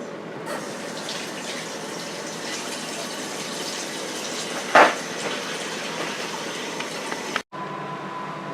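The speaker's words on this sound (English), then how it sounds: "Let me wash my hands." A kitchen tap runs steadily while hands are washed under the stream, a close continuous gush with one brief splash midway before the water cuts off near the end; no one speaks.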